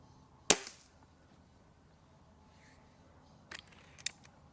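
Shots from a Remington Tyrant air rifle firing AEA pellets at a paper target, a sharp close crack followed a few seconds later by two more quick snaps, with quiet between.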